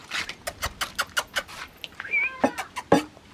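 A cat meows several times in a row, with close, rising and falling calls in a quick series and a louder cry near the end, heard indoors in a kitchen while a meal is being served.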